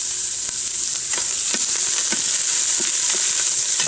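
Onions fry in a pan with a loud, constant sizzle and hiss, broken by soft crackling pops and occasional stirring clicks, close up with no talk.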